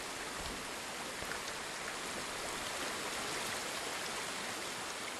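During a thunderstorm in the video game Ghost of Tsushima, heavy rain pours in a dense, even hiss that goes on without a break and carries no speech.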